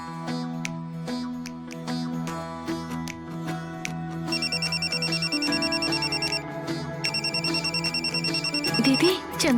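A telephone rings in a Hindi family drama scene: a bright electronic ringtone repeats in regular bursts from midway, playing over background music.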